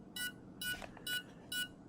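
Radiomaster Ranger Nano transmitter module beeping during drone setup: four evenly spaced short electronic beeps, each bright and steady, repeating about every half second with faint background between.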